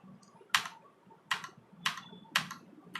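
A mechanical computer keyboard plugged into the USB port of a Redragon HA300 Scepter Pro headset stand, typed on in four sharp, evenly spaced keystrokes with quiet gaps between them.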